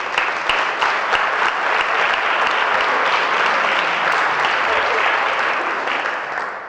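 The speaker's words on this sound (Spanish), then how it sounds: "Un aplauso para José Antonio." A conference audience at a Málaga social impact event gives José Antonio Navero, director general of Arrabal, steady, full applause, dense and even throughout before tapering slightly at the end.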